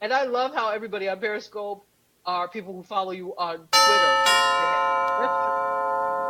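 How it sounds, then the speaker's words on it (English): A doorbell rings loudly after a stretch of talk, its bright chime sustaining and slowly fading to the end, heard around Halloween trick-or-treating. "That's a doorbell."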